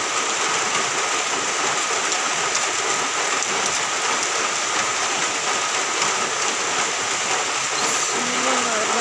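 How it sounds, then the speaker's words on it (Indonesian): Steady rain falls throughout on a January day, an even, dense hiss of drops on surfaces with no voices heard. "Seharian ini hujan, harus malam juga hujan."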